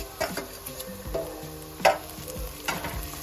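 Garlic ginger paste fries in a pan with onions for a fish curry, a steady sizzle broken by scattered clicks and scrapes of stirring.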